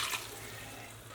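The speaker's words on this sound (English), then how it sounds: "And I'm going to add 2 cups of water," Water pours from a cup into an Instant Pot for a pot roast, a steady close splashing hiss that starts a little stronger and then runs evenly.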